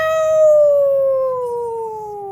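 A voice imitates an angry cat with one long, loud, wailing yowl that slowly falls in pitch and holds for over two seconds.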